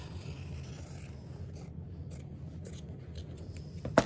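Scissors rough-cut pieces of interfacing fabric with a few faint, close snips and soft scraping over a quiet background.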